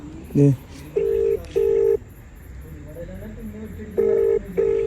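A phone call to a forest office rings out unanswered, with a short run of dialing tones followed by repeated steady ring tones in pairs over faint background noise and insect hum, without any voices.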